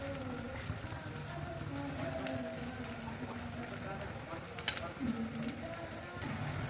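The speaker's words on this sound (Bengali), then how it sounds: "এরপর আমি বড়াগুলো ছেড়ে দিচ্ছি এক এক করে।" Banana flower fritters fry in hot oil, a dense, even sizzle like rain filling the whole stretch, with a few small splashes and pops and a voice speaking over it.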